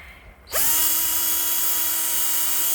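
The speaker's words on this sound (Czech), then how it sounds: "je to vrtačka. Tak a jdeme si do něj vyvrtat díru." A power drill spins up abruptly and whines at a steady high pitch while drilling a hole into a microphone, loud and close, no talk.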